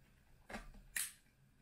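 An 8GB DDR4 2666MHz SODIMM RAM module snaps into its slot in a Dell Inspiron laptop, giving one soft tap and then a sharper click a moment later, close and fairly quiet.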